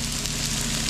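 Thick tuna pieces sear in a hot pan for tacos, giving a dense, loud, continuous sizzle and crackle with no talking.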